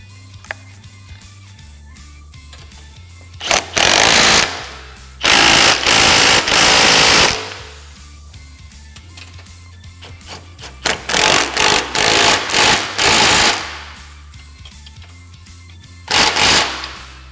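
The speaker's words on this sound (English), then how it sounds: "Now we're just going to go ahead and fully tighten our sway bar link hardware." A power tool rattles in four loud, separate bursts while tightening sway bar link hardware on a Can-Am Commander, with quiet pauses between them.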